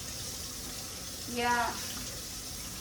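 Water runs steadily from a tap into a sink as a constant wash of noise, with a single short spoken word near the middle.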